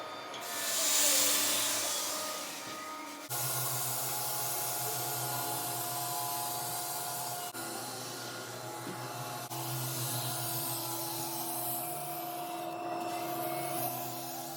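CNC machine cutting a foam surfboard blank in a shop, a continuous broadband whirring and rasping with steady hum, close and loud throughout, shifting in tone a few times as the cut progresses.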